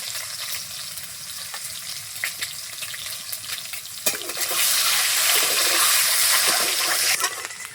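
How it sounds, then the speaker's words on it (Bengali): Eggs fry in a pan, a steady, close sizzle that swells and grows louder and brighter halfway through and holds for several seconds without any talk. "ডিমও হালকা ভাজা করে নিয়েছি, এখন নামিয়ে নিব।"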